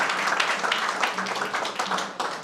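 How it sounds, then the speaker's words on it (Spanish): Brief burst of audience clapping at an academic lecture welcoming a presenter, steady and fairly loud for a couple of seconds. "recibamos a nuestro presentador con un fuerte aplauso."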